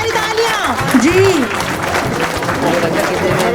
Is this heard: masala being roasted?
no